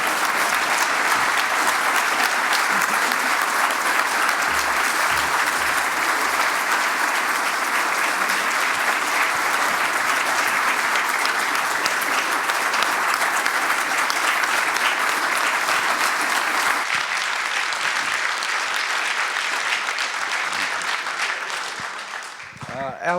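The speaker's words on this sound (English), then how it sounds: "Will you please join with expressing your thanks for his honour service of our society and of our nation, with an applause" A conference audience applauds at length in tribute to an honoured guest. Dense, sustained clapping fills the room for about twenty seconds, then eases and trails off at the end.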